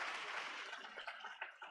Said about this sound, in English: So a big round of applause for Sanjeevan Gupta and